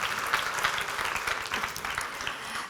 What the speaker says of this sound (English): A big applause for Deborah.